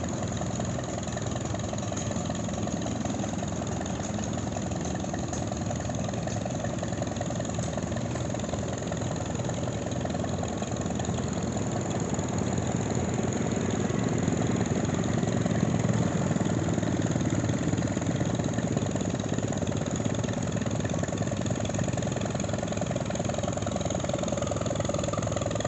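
A small McCormick tractor engine idles steadily at an outdoor tractor show, a continuous mid-pitched running rumble with faint crowd and outdoor noise around it and no clear speech.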